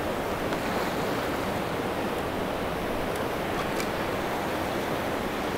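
Atlantic surf at New Smyrna Beach, Florida rushes up the sand in a continuous broad wash, steady and close, with wind rumbling over the microphone and no voices.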